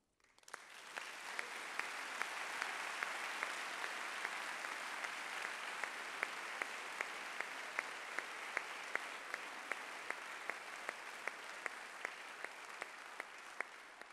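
An audience claps at the inauguration of the hybrid organ in Angers, a long, even, fairly distant round of applause with a few sharper individual claps standing out, no talking.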